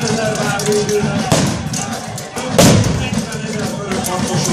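Cannon fire at a battle reenactment of the siege of Eger castle, with heavy booms among sharp cracks and a strong blast near the middle, all under continuous crowd noise and an announcer's voice.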